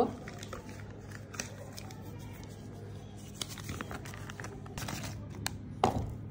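A knife chopping green chillies on a board, quick soft repeated taps at an uneven pace, close and fairly quiet under a low steady hum.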